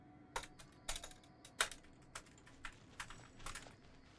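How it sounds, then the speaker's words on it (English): Scattered, quick bursts of clicking on a short computer keyboard at a desk, close and fairly quiet, irregular keystrokes with gaps between them and no voices. "Short keyboard on the left side of my desk makes for a lot of typing errors"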